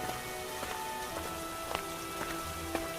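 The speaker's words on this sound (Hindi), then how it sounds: "बाहर लगातार बारिश हो रही थी" Steady rain falls on a surface, a continuous hiss dotted with occasional louder drips and patters, with no voices.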